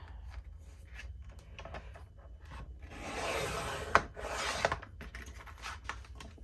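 Sheets of vellum paper being cut for envelopes make soft rubbing, scraping strokes close by, with a couple of sharper snips or clicks in the middle and quieter handling before and after.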